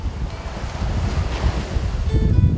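Ocean surf washing onto a wide seashore, a steady broad roar of breaking waves mixed with gusty wind buffeting the microphone, with no voices.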